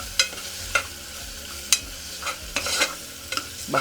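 Ginger garlic paste fries in a pan with a soft, continuous sizzle, broken by several sharp scraping clicks as a spoon stirs it. Close and fairly quiet, with no talking.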